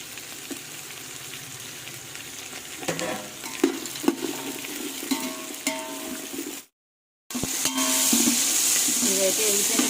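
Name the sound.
vegetables and cashews frying and being stirred in a pan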